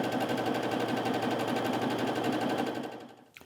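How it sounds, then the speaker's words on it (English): A sewing machine runs steadily for about three seconds, joining strips of quilting fabric for strip-pieced half-square triangles, then stops abruptly, with no talk over it. "Then I'm just going to get my strips nice and lined up and start piecing."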